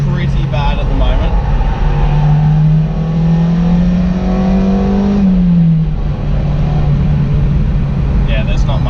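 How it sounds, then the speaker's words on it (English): A 1994 Mazda MX-5 NA on its stock exhaust revs while driving, the engine note climbing steadily then dropping back, loud and close, with road and wind roar throughout. "It sounds good though. Stock exhaust, I still love it."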